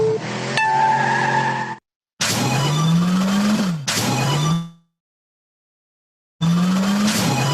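An educational quiz app's car racing game plays loud synthesized engine revs and tire squeals in three separate bursts, with silent gaps between them and no talking.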